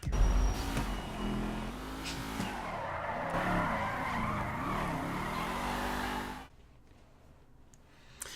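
A car in GTA V on PC speeds past with loud engine roar and tire skidding, the sound swelling and shifting in pitch for about six seconds before cutting off abruptly to near quiet.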